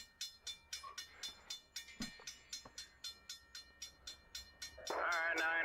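CSX freight train led by SD60 locomotives rolling past, a regular clickety-clack of wheels over rail joints, followed by a louder swell of engine and rail roar near the end.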